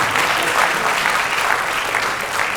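An audience at a theatre workshop dance and play performance applauds with loud, dense clapping that carries steadily for a couple of seconds.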